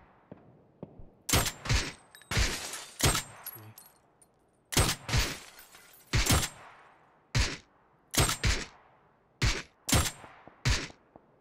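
Gunfire in PUBG: a series of loud, sharp single shots and short bursts, about a dozen reports spaced irregularly with quiet gaps between, close and with no talk over them.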